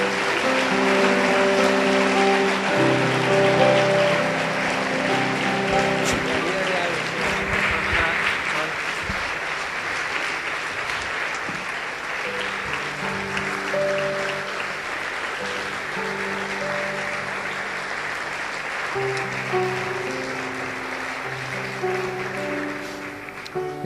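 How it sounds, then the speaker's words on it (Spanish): A church congregation claps for the King of Glory at the close of a sermon, sustained applause lasting over twenty seconds, with held musical tones and some talking underneath. "dale tu mejor aplauso al Rey de Gloria."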